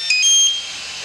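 Electronic beep from an MFD Link 433MHz UHF RC transmitter while its button is held: a single short, high tonal chirp with a faint, brief stepped pitch pattern, heard alone and close.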